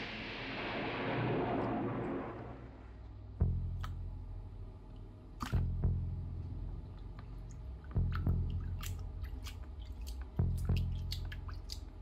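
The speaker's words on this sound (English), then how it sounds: "now it's time to give it a rinse off in an alcohol bath" A 3D-printed resin part gets rinsed in an alcohol bath: a brief swishing wash of liquid at the start, then sparse wet drips and soft squishy taps spaced every couple of seconds, close and quiet.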